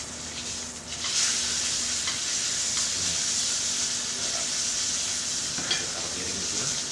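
Steak searing in a hot pan, tilted so the fat cooks too, gives a steady loud sizzle and hiss with faint stirring or scraping, close up and continuous, with no talking.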